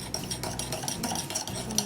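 A spoon stirs bicarbonate of soda into two tablespoons of milk, making quick, light clinks and scrapes against the container over about two seconds, close and faint.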